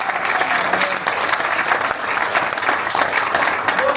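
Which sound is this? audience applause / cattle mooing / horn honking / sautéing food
audience applause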